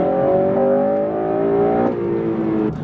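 An eighth-generation Honda Civic Si engine revs hard into VTEC and climbs steadily in pitch, holding a rising whine before easing off near the end.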